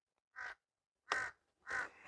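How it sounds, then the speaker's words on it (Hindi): A crow caws three times outdoors beside a parked camper van, each call a short harsh burst separated by pauses, fairly close and clear over a quiet background. "कौए के दर्शन हुए हैं और आवाज भी मतलब ऐसा ही लग रहा है जैसे कि वो आवाज देके बुला रहे हैं"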